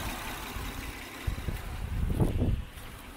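A 2007 Honda Odyssey with a 3.5 VTEC engine idles at roughly operating temperature, giving a steady low rumble with a brief swell in the middle.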